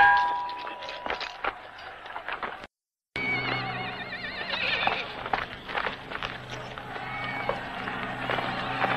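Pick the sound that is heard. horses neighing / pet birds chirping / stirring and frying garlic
horses neighing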